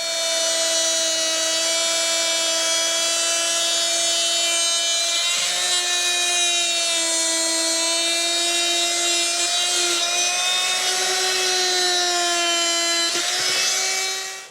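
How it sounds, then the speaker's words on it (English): An oscillating multi-tool cuts steadily through brittle material, a loud, continuous high-pitched buzzing whine that shifts pitch slightly as the blade loads, close up and uninterrupted for the whole stretch. "Only other thing I can think of to try not to let it break on me is using the oscillating tool."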